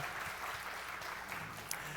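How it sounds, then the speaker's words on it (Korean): Applause from a church young adult congregation welcoming two mentor couples, a steady wash of many hands clapping at moderate distance, even and sustained throughout. "한 번 더 우리 박수로 환영하도록 하겠습니다"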